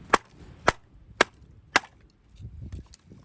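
A HalfBreed Blades LIK1 knife with a D2 steel blade is batoned through firewood outdoors in the cold, four sharp, loud cracks in steady rhythm followed by softer rustling and handling noise.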